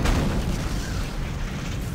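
Explosions in the 2008 video game Dead Space: a loud, continuous rumbling boom with heavy low-end roar that fades gradually, with no talking over it.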